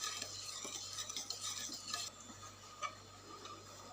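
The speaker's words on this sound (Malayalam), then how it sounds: "ഇളക്കി കൊടുക്കാം." Pancake batter of sugar and sunflower oil stirred in a bowl, quiet, close scraping and clinking of a spoon in quick rhythmic strokes, soft and without talk.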